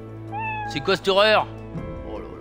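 A drawn-out, wavering meow from a cartoon cat in the video game Skul The Hero Slayer, rising and bending in pitch, with someone speaking over the moments before and after.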